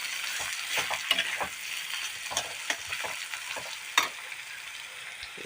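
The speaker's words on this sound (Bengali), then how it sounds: "আলু ভাজা করতেছি, কারণ করলা দিয়ে আলু ভাজি" Potatoes fry with bitter gourd in a pan: a quiet, constant sizzle dotted with frequent spatula clicks and one louder scrape.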